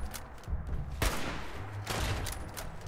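Gunfire in the video game Fallout 76, a near, loud burst of rapid shots with sharp cracks standing out, running over a rumbling background with no talk.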